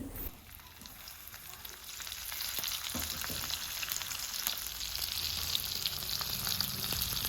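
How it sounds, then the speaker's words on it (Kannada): Rava-coated stuffed mackerel (bangda), Goan style, sizzles steadily in hot oil after being turned over in the pan. The close, continuous frying hiss grows slightly louder and stays even throughout, with no talking. "ಫ್ರೈ ಆಗಿದೆ. ಟರ್ನ್ ಮಾಡಿ ಇನ್ನೊಂದು ಸೈಡ್ ಸಹ ಫ್ರೈ ಮಾಡಿಕೊಳ್ಳಿ."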